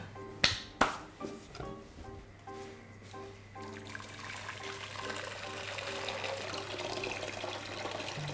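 Tap water runs steadily into a pot, to be boiled for cooking chicken kufta, beginning after a couple of sharp clicks and swelling into a continuous, fairly close splashing flow without talk.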